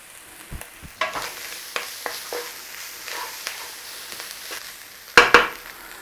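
Garlic frying in a pan for a 1970s California nacho casserole, a low steady sizzle with occasional stirring clicks and scrapes, and a louder burst of sizzle near the end.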